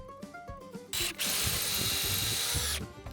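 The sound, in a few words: power drill drilling holes in a diorama slab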